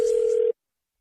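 Steady telephone dial tone at the start of a prank radio phone call, a single clean continuous tone heard alone for about half a second before cutting off abruptly.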